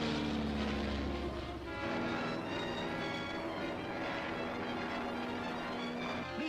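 A propeller airplane drones in flight in the 1941 serial The Adventures of Captain Marvel, a steady, moderately loud engine hum with sustained tones running throughout.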